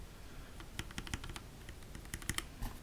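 Typing on a keyboard fitted with lubed Gateron Linjar switches: soft, quick clicks and clacks in an irregular patter, close but quiet, with no voices.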